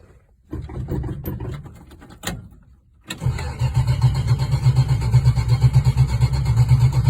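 A 1972 Chevrolet Monte Carlo Coupe with a 350 V8 cranks over after a few sharp clicks, catches with a roar and settles into a loud, lumpy, pulsing idle close by.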